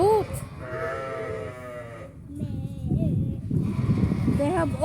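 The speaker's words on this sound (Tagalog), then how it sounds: "Wow, and also they have goat." A goat bleats on a farm in Doha, giving several wavering, nasal cries at close range. Other livestock are nearby, and some background voices may mix in between the calls.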